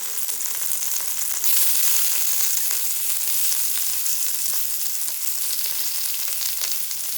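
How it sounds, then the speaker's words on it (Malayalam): Chopped onion sautéing in a pan, a dense, steady sizzle that swells louder partway through and continues evenly, close and alone without any voices. "ഒരു സവോള ചോപ്പ് നമുക്ക് അതുകൂടെ ഇതിലേക്ക് ആഡ് ചെയ്ത് കൊടുക്കാം"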